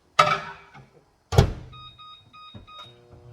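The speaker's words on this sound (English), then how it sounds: "I'm going to put this in the microwave for like 10 seconds just to get it soft." A microwave oven heating a wrap: two sharp thunks of the door opening and closing, then a run of short electronic beeps as the timer is set, close and alone.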